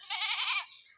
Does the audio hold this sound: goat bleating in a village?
yes